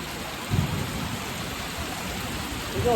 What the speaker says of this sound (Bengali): কি বৃষ্টিটা হলো